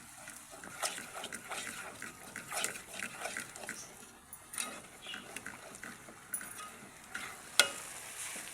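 Thickened rabri is stirred and fried in a pan, giving a steady sizzle broken by repeated scraping strokes of the spoon against the pan, with a sharper clink near the end.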